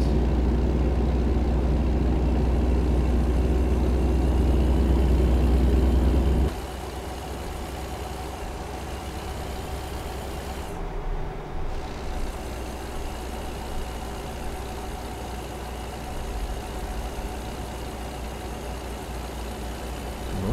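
A 600-horsepower truck engine pulls a heavy load uphill in American Truck Simulator, a deep steady drone running throughout, louder and fuller at first, then settling into a lower, even hum.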